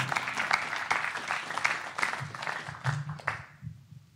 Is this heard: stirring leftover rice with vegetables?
no